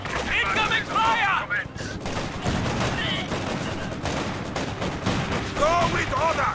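Gunfire in the Company of Heroes 2 video game on the Essen Steelworks map: dense bursts of rifle and machine-gun fire crackle continuously, with shouted soldier voices in the mix.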